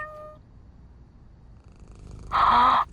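A cat purrs in one short, loud, close burst near the end, heard at night outdoors, after a faint tonal sound at the start and a quiet stretch.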